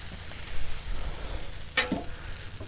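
Noodles sizzle on a Blackstone griddle with oil, a steady frying hiss with scraping stirs and a sharp clatter near the end, close and moderately quiet.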